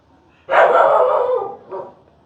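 A house dog lets out one loud, drawn-out bark close by, then a shorter and softer follow-up bark before it goes quiet.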